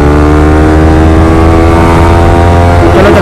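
A motorcycle rides along a city road, its engine a loud, steady drone that runs through the whole stretch with no voices.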